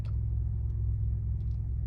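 Road traffic passes by, a steady low rumble of car engines and tires, continuous and moderately close with no talk over it.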